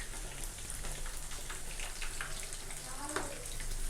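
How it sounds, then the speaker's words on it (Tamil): Chicken lollipops deep frying in hot oil over a medium flame, a steady close crackle and sizzle running throughout, with someone talking over it. "மீடியம் ஃப்ளேமில் வச்சு இது வந்துட்டு ஒரு 6 to 7 மினிட்ஸ் நல்லா ஃப்ரை பண்ணி எடுத்துக்கணும்."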